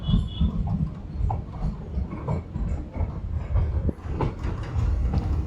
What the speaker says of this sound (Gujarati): આ ધારીમાં કંઈક ટ્રેન એન્ટર થાય છે